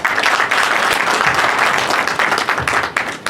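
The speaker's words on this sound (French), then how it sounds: "Il faut applaudir pour vous." Dense, loud applause from an audience at a political party conference, sustained clapping of many hands filling the room without pause.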